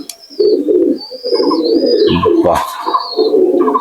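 A male Chinese teddy pigeon coos in a run of low, rolling notes that carry through the clip, close and steady, with a brief exclamation from a person partway through.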